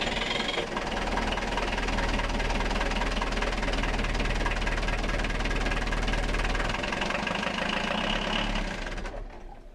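A sailboat's diesel engine cranks and runs just after its fuel filter was changed. The knocking rumble is loud and steady for most of the stretch, then fades out near the end.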